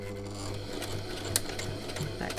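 A sewing machine runs steadily and close up as it stitches a face mask near the end of its bobbin thread, holding a continuous mechanical hum with one brief clack partway through, no talking.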